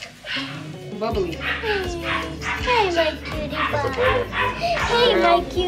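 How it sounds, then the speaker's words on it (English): A new puppy whimpers and yips in a run of short, high, rising cries repeated every second or so, close by, with children's voices talking over and between the cries. "Look at the puppy."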